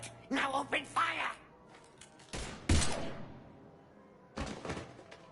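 Bursts of video-game gunfire in Mass Effect 3, a few sharp loud volleys separated by pauses, with dialogue spoken over the opening seconds.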